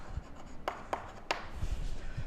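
A pen or chalk writes out a step during a class 10 maths lesson, giving three quick, distinct scratchy strokes up close followed by fainter low rubbing.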